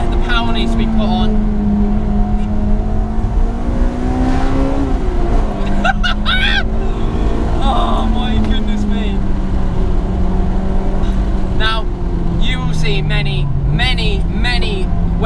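Honda Integra DC2 Type R in Phoenix Yellow driving on the road, its steady engine drone rising and falling with throttle changes throughout, with a voice talking over it.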